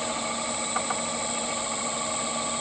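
A Sieg mini lathe runs at roughly 300 to 384 RPM before a first facing cut with an indexable carbide tip, giving a steady close motor hum and whine with faint mechanical ticks.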